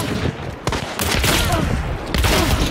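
Rapid bursts of gunfire in a video game firefight, sharp cracks and volleys stacking densely throughout, loud and close, with a few louder reports standing out.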